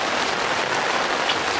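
Rain falls in an Indonesian village with a loud, dense, steady hiss of drops pattering on surfaces close by, continuous and without speech.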